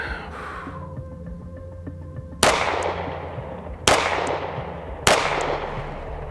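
Three loud gunshots ring out from a Strike One ERGAL pistol at a firing range, each a sharp crack spaced about a second and a half apart with a ringing tail, following an earlier faint bang and low ambient hum.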